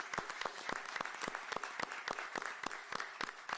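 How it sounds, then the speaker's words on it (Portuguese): Audience applause in tribute during a Brazilian football squad announcement press event, a steady run of sharp, evenly spaced claps from a modest crowd at moderate distance, with no voices over it. "Salva de palmas ao mestre Zagallo em vida."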